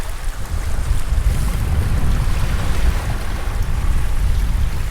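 Ocean waves wash and break against algae-covered rocks at the tip of Black River Island, a steady loud rush of surf with wind noise across the whole stretch and no talking.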